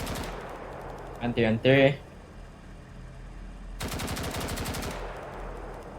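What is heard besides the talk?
machine gun fire in the video game BRM5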